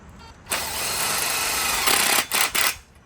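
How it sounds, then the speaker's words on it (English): A power drill drives self-tapping screws into an aluminum fence post with a loud, close whirring run of about two seconds, followed by two short trigger bursts before winding down. "That's where you're going to put your self-tapping screw through."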